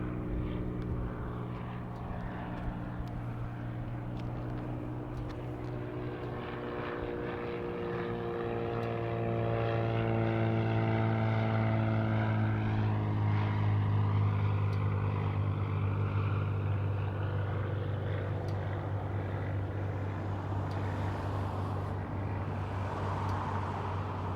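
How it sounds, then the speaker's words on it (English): A propeller seaplane flies over Lake Hood with a steady droning engine whose pitch shifts as it circles, swelling louder midway and then fading slightly, heard at a moderate distance with no talking. "See some seaplanes coming in, and I see one circling around out there"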